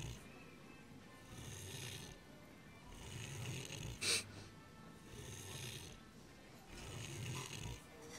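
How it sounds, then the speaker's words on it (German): A woman snores in the Judgment video game after passing out drunk, with slow, rhythmic rasping inhales repeating roughly every two seconds and a brief sharp sound midway. "Wie schnarcht die bitte?"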